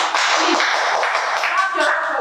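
A room of people claps together in a steady, dense wash of applause lasting a couple of seconds, fairly loud and close, with no talk over it.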